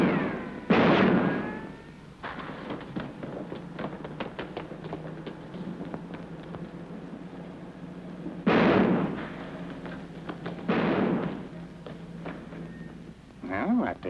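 Gunshots from a 1947 comedy film noir sound as a few sharp loud reports spaced several seconds apart, with a busy layer of clattering and tapping noises and voices in between.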